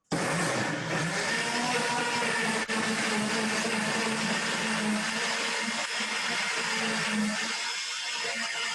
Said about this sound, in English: So now ready to blend again.